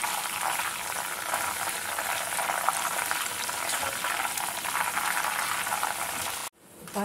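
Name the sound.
salt water added to potato chips frying in hot oil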